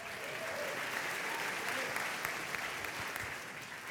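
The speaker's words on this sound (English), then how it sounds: "Now, polite applause" Polite audience applause at a campaign town hall in Greece, New York, steady and moderately loud for the whole stretch, a crowd clapping without cheers.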